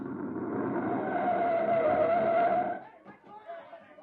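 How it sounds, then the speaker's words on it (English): A military recon car comes up the road, its engine a steady loud drone that swells and then cuts off into quieter rumbling and background noise, with voices heard around it. "There's a recon car coming up."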